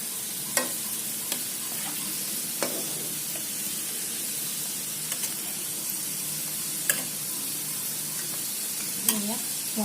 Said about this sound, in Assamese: এনেদৰে ৰঙচুৱা হ'লকে দুইটা লুটিয়াই ভাজি ল'ম